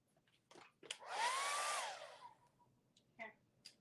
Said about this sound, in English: Okay, the blow dryer.